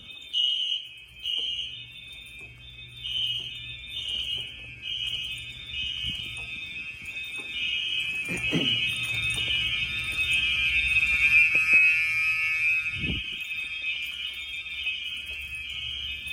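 Wheelock fire alarm devices run on Gentex sync and sound a continuous high, pulsing electronic tone, loud and steady throughout, with a few low thumps and faint background noise beneath.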